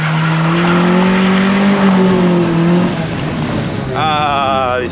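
A Peugeot 206 GT 2.0L 16S doing a burnout: a loud, close engine roar and tire squeal fill the whole stretch, with the pitch sweeping and wavering near the end.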